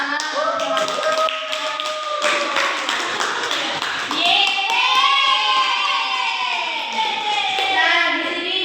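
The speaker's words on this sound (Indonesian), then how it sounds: "Bisa diberi tepuk tangan anak-anak." Schoolchildren in a fifth-grade class clap in a loose, patterned rhythm of sharp taps, close and fairly loud, while children's voices chatter and sing-song alongside the clapping.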